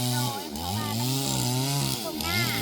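A chainsaw cutting a tree branch outdoors, its engine whining and sagging in repeated rising and falling pitch sweeps as it bites into the wood, close and continuous with a faint voice underneath.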